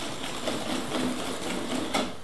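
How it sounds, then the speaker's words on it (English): Vanilla cream for crème brûlée being whisked hard in a bowl, making a steady, fast, continuous rattling whir that stays close and even throughout, with no talking. "So we're going to whisk this up really well."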